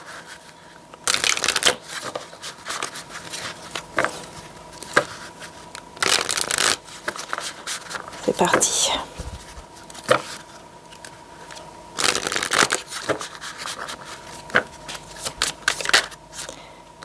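Tarot oracle cards shuffled in repeated crisp riffling bursts, each lasting about a second and separated by short pauses, close and clear; one brief spoken phrase near the start.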